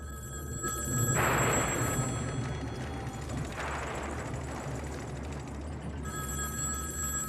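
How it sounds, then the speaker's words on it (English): A telephone rings at low volume, its bell trilling in repeated bursts against a quiet room background. "Hold on, my phone's ringing."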